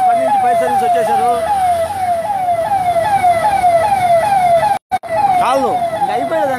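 A fire engine arrives at a fire near a petrol bunk in Kavali, its siren loud and close, whooping in a rapid repeating rise-and-fall pattern with a brief dropout midway, voices faintly underneath.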